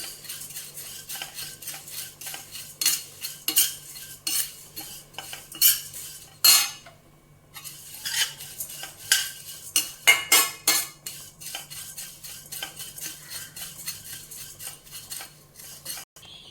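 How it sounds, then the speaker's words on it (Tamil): Flattened rice (aval) being dry-roasted and stirred in a pan, with a spoon scraping and clinking against metal in irregular bursts, fairly close, and no talking. "அவள் பார்த்திங்கன்னா நல்லா வறுபட்டுருச்சு, கலர் மாறிடுச்சு பாருங்கள்."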